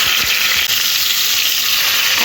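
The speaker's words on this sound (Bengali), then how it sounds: "তেলের মধ্যে এই নুন আর হলুদ মাখা কাতলা মাছগুলো একটা একটা করে" Katla fish pieces rubbed with salt and turmeric frying in very hot oil, a loud, continuous, close hiss and crackle of sizzling with no talk.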